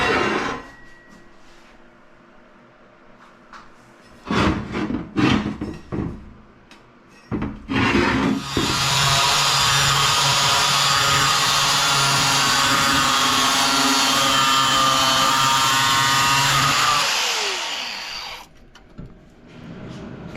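Quarter inch steel plate being cut with a power tool: a few short bursts, then a long loud sustained grinding whine lasting about ten seconds before it winds down and stops.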